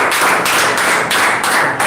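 Classroom audience applauding in a spoken English class, a close, dense and loud burst of many hands clapping continuously with slight swells in intensity.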